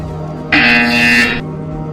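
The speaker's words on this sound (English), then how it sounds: "When you hear the buzzer, turn around and face the server farm behind you." A buzzer sounds in the Portal Stories VR video game, one steady, loud electronic tone lasting nearly a second, set against a constant low hum.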